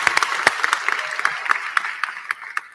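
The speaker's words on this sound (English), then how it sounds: "give them a round of applause" A graduation ceremony audience applauding cafeteria and janitorial staff, with moderately loud, scattered clapping and sharp individual claps rising over the crowd.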